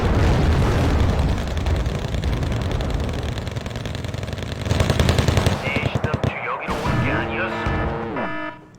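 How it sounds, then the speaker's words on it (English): F-5 jets dropping bombs and napalm on troop transports in Wargame: Red Dragon, with a loud, continuous roar of rapid blasts and gunfire-like bursts, then rumbling explosions and a falling whine as it fades. "F5s are dropping bombs again. They're dropping napalm on troop transports."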